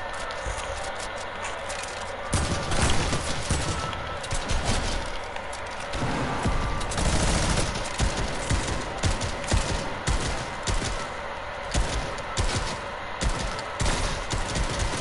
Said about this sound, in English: Why is he shooting?